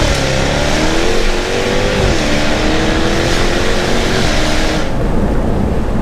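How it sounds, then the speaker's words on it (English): Inside a 700bhp methanol-injected Jaguar F-Type S, the engine drones loudly and steadily under acceleration, with a gear-shift thump partway through and the revs dropping away near the end. "I like those thumps. It's really exaggerated, the gear shift."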